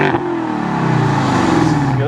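A car engine revs hard and close, its rising growl climbing in pitch across two seconds of continuous, loud acceleration.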